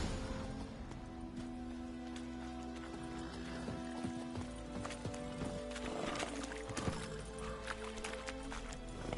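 Geralt's horse Roach gallops in The Witcher 3, a steady rhythmic clip-clop of hooves under game music and ambience, moderately near and continuous with a few louder thuds.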